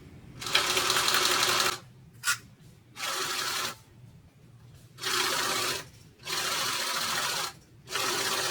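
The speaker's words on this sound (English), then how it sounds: "now we're going to add a top stitch at 1/8 of an inch right along the top of there on this bottom piece" A sewing machine topstitches a seam 1/8 inch from the edge along the top of a bag's bottom piece, running in about five close, steady bursts separated by short pauses.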